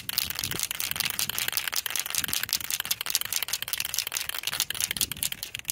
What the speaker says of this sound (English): Shake it up real well.